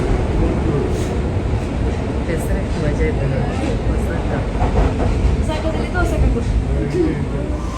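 A train rumbles and rattles steadily while pulling into a railway station in Osaka, Japan, with people talking over the continuous noise.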